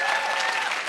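Audience clapping at a London event with Rashmika Mandanna, a dense, steady burst of applause from a crowd, loud and continuous across the brief moment.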